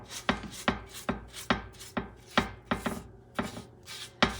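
Extra virgin olive oil is brushed around a cast iron griddle in steady, rhythmic scratchy strokes, roughly two or three per second, close and moderately loud with no talking.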